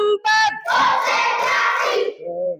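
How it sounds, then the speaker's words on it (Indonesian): A class playing a counted clapping game in school, loud group claps and excited children's shouts blending into a burst of cheering, followed by a short quieter voice at the end. "Tepuk 1, tepuk 2, tepuk 3, tepuk"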